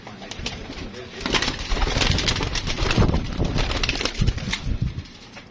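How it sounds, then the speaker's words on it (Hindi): Pet flying pigeons, including females, coo and shuffle close by in a loft, with soft repeated calls and a few wing flutters over steady background noise. "ये नीचे जो कबूतर देखे ना ये उनकी फीमेल है"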